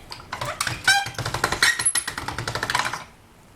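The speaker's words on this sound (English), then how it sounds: "then roll it through your pasta machine, fold side down" Polymer clay cranked through a pasta machine, a quick run of close, rhythmic mechanical clicking and ratcheting that stops abruptly toward the end.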